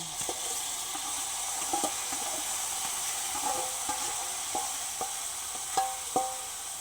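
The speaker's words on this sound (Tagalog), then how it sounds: "Ilalagay na natin ang labong." Softened bamboo shoots sautéed in a pan for a dish with dried anchovies: a continuous low sizzle runs throughout, with scattered scraping and clinking from stirring, a few louder knocks near the end.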